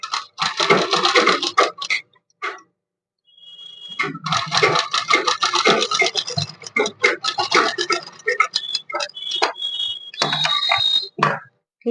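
A sewing machine stitching blouse fabric, running in close, loud bursts of rapid mechanical stitching separated by short pauses, with no speech.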